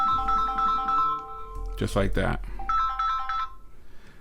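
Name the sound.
outgoing call ringing on Amazfit GTR 4 smartwatch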